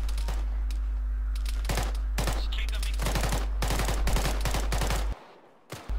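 Rapid bursts of automatic gunfire and single shots from the Arma III military shooter game, loud and dense in a steady battle barrage for about five seconds before cutting off, with one last shot near the end.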